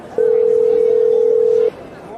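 A phone rings in a dramatized Bengali crime story: a single steady electronic tone lasting about a second and a half, loud and clean over a faint background murmur.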